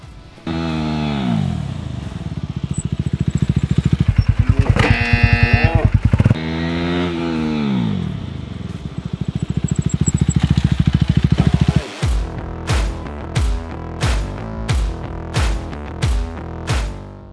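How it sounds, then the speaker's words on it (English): A 2022 KTM RC 390 motorcycle during a stoppie stunt test at a barrier turnaround: the engine revs loudly and rises and falls close by, then cuts to a run of short, choppy bursts of engine sound. "I would actually like to do a stoppy arriving here on the barrier turnaround and trying to land here with my rear tire"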